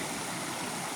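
A rocky river below a dam, left strewn with stones after a typhoon, rushes in a steady, loud, broadband roar up close, with no voices.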